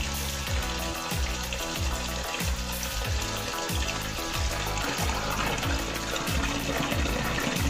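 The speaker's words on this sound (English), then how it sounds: "This is Tona fish, washing going on." Tap water running steadily while sliced Tona fish is washed by hand, a continuous splashing gush with a repeating rhythmic pulsing, no talking.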